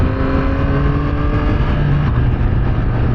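Loud, steady Yamaha MT-09 SP motorcycle engine drone with a low rumbling tone held at high revs, close by, with no talking.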